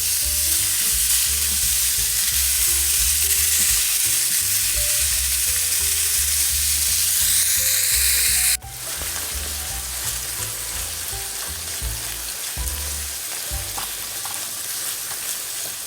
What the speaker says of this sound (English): we're going to add in our pound of ground beef. And all we're going to do is break it down and cook it until it's all brown